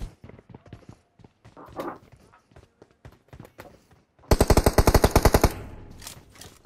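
Automatic gunfire in the mobile battle royale game PUBG Mobile: after scattered footsteps and soft clicks, a loud, rapid burst of shots rings out for roughly a second, then fades into a lingering echo.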